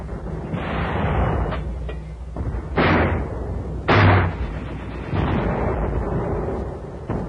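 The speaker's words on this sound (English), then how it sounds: "Our infantry tank teams, sweeping toward the airfield, were supported by mortar and artillery fire." WWII mortar and artillery fire on Saipan, a series of heavy booming blasts with rumbling tails, several distinct impacts spaced a second or so apart over a continuous low roar.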